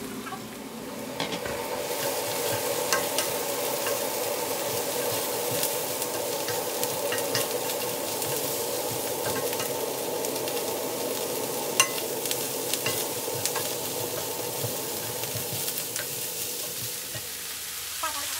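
Cabbage sizzles loudly and continuously as it is stirred into a lamb chop stew in a hot pot, a steady frying hiss with occasional scraping of the spoon.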